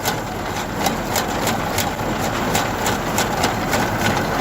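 A hydraulic motor drives a snow auger through packed snow, a steady low engine-like drone with a faint rhythmic churning, continuous and fairly near, with no talk over it.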